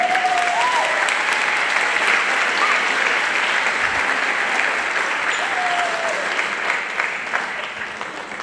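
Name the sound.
audience applause at a school band concert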